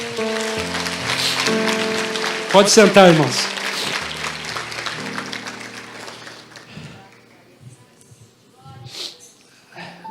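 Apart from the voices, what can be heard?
congregation applauding in church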